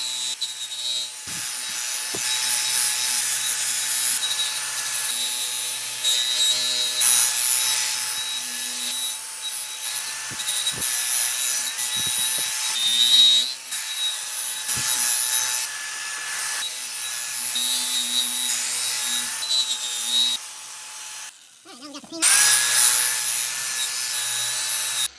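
An aluminum baseball bat is polished with a power tool, giving a steady high whirring rub that runs on and on, broken by brief scraping touches and a short pause near the end.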